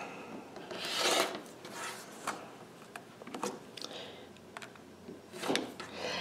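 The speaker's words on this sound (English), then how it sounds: "When I'm satisfied, I am going to trim 2 sides." A cutter trims two sides of a quilt block's fabric on a cutting mat, making close rasping strokes with a couple of longer, louder swipes and quieter scrapes between them.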